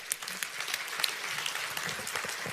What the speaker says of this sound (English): give everybody a hand, that's really fantastic.